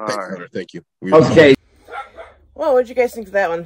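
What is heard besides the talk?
dog barking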